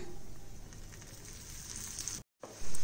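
Bottle gourd adai frying in oil on a pan gives a steady, soft sizzle with faint crackles, broken by a brief silent gap near the end before a louder return.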